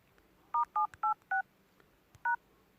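Phone keypad tones dial the JazzCash code *786: five short, clear beeps in quick succession, then a pause and one final beep, with no voices.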